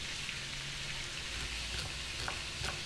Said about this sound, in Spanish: En el mismo aceite que hemos cocinado la carne, echamos los ajos cortados.